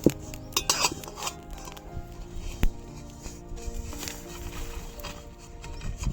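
Roasted spices for a tamarind pickle are taken off a pan, giving close metallic clinks and scraping clatters, a few sharp knocks early on and lighter rattling after, over a faint steady hum.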